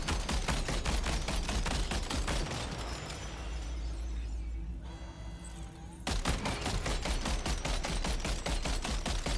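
Rapid, sustained bursts of gunfire from a gun in Death Stranding 2, loud and dense at the start and end with a brief lull in the middle.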